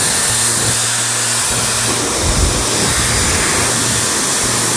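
Dyson hair dryer on its strongest setting, a steady close whooshing roar of blown air with a faint motor whine underneath, continuous throughout.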